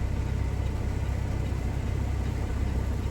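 A big car hauler truck, 75 to 80 feet long, rumbles with a steady low engine drone while backing up on a busy street, a dense unbroken noise with no voices.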